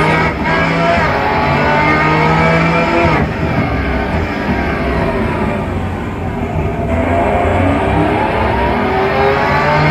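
Race car engines from the video game Race Pro drone in a loud, continuous roar, with layered tones that shift in pitch as the cars accelerate and change gear, constant throughout without any speech.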